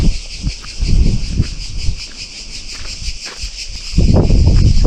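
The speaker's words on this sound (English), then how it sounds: "The sound of Greece, the cicadas." Cicadas on Paros, a Greek island, give off a steady high buzzing drone that pulses throughout, with footsteps and rustling close by underneath.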